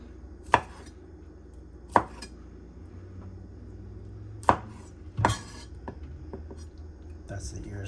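Knife chopping through cooked braised pork ear on a board, four sharp, distinct cuts at uneven intervals with small clinks between, close up; a voice can be heard faintly in the background.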